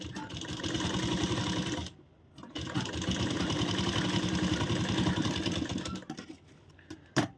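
A sewing machine runs steadily stitching a blouse, a rapid mechanical whirr close by with a brief pause before resuming, then slowing toward the end.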